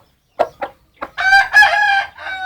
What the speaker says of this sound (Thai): ตัวนี้นะครับพ่อพันธุ์หลักของหวานเย็นนะครับ เจ้าคันโยกนะครับ